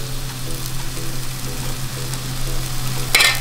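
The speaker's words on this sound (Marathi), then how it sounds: "आता हे आपल्याला छान परतून घ्यायचं आहे" Homemade Kashmiri masala, chili powder, turmeric and garam masala sautéing in a pan over low heat, a steady soft sizzle with a faint stir-scrape near the end.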